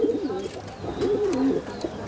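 Pigeons cooing in repeated throaty phrases, close and fairly loud, with two clear bursts of low burbling calls and a brief pause between them; no voices present.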